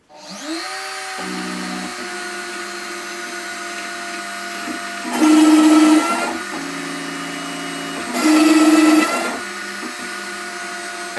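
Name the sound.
CNC router cutting wood with a 6mm router bit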